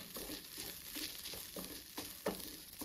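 Grated coconut stirred into a hot pan with the stove switched off, giving a soft steady sizzle with scraping stirring strokes at regular intervals, close and fairly quiet.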